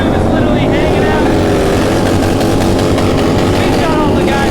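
Loud motorcycle engines roar and rev continuously during a burnout, harsh and close, with a voice faintly mixed into the din.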